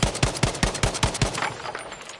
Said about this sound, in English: I'm going to shoot it now.